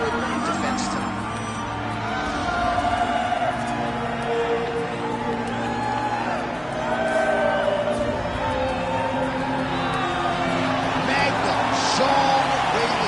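A capacity crowd at a UFC event in the UFC 5 video game cheers and murmurs continuously, a dense swell of voices with a few shouts and whoops above a low rumble.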